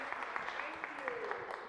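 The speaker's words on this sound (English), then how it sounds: "a round of applause" Audience applause at a Sunday faith and work conference, a steady, fairly quiet patter of clapping hands that continues throughout.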